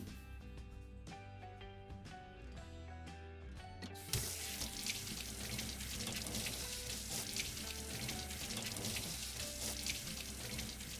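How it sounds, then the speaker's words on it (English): Water runs steadily from a tap over a pan being rinsed, with a broadband splashing hiss, starting abruptly after a few seconds of tonal background music and continuing loud to the end. "rinse it quickly with clean water"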